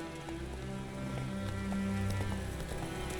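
Horse hooves clip-clopping at a gallop in The Witcher 3 video game, a steady rapid beat over a dense game soundtrack with rain-like texture, continuous throughout.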